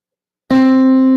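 A single piano note struck once and held steady, ringing clearly alone with a slow natural decay and no other sounds around it.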